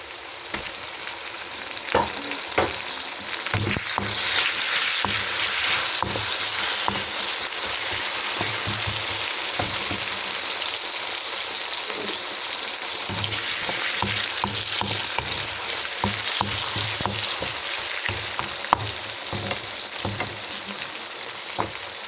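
Tomatoes frying for egg kothu in a pan, a steady loud sizzle throughout with repeated scraping and stirring strokes against the metal, no voices.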